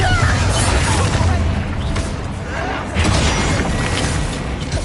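A Bombarda blasting spell goes off in Hogwarts Legacy, heavy booming explosions with crashing, shattering debris and rumbling bursts over dense combat noise, loud and close, with voices shouting during the fight.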